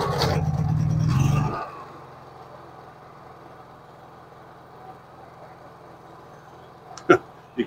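A Honda EU3000is inverter generator fitted with a spark arrester starts with a loud pull and a brief roar, then settles into a quiet, steady low idle hum, broken near the end by a couple of sharp knocks.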